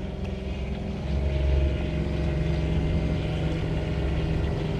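A John Deere Gator XUV 865M diesel utility vehicle with a CVT pulls away, its steady low engine drone rising slightly as it sets off and then holding an even, close hum throughout.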